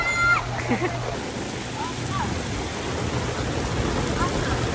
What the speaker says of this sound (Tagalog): At sobrang ulan mga tol. Kami ay nakapayong.